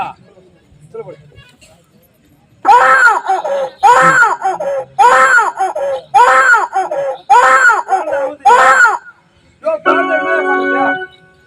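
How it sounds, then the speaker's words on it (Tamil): A child in a Tamil village drama cries loudly in repeated rhythmic wailing bursts, six long sobs in a row followed by a shorter whimpering cry, close and prominent. "அந்த குழந்தை ஏன் அழுவுது தெரியுமா"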